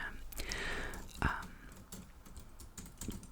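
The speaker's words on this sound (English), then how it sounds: "You can listen to the dulcet tones of my typewriter" Irregular clicking typewriter keystrokes tapping out at a close, steady pace, with a sharper clack near the start and faint background noise throughout.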